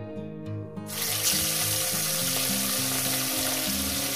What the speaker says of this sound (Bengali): এবার আমি মাছগুলো আস্তে আস্তে দিয়ে ভেজে নেব।